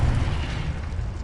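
A Confringo fire spell blast in the Hogwarts Legacy video game, a short loud booming burst with a deep rumbling low end that fades over about a second.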